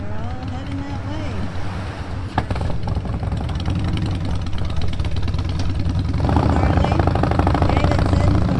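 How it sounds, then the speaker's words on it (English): Harley-Davidson motorcycles near the Badlands during Sturgis Bike Week rumble past with a low, throbbing engine drone that grows louder toward the end, mixed with wind buffeting. "Harley Davidson from Milwaukee"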